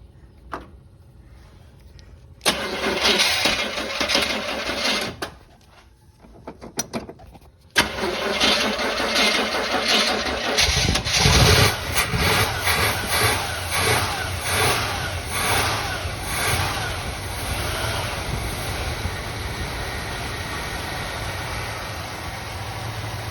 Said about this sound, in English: So we got the thing running as far as, I mean, you've seen it. It ran